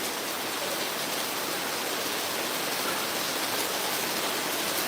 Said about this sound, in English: I wish the rain would lighten up.